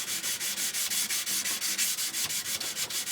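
A knife blade's plunge area is hand polished in a rhythmic, steady back-and-forth abrasive rubbing, about four strokes a second, close and continuous with no voice over it.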